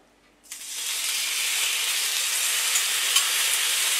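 Ginger meat in sauce hits a hot pan and starts frying, a loud steady sizzle and hiss that begins abruptly after a brief quiet moment and continues unbroken, close up.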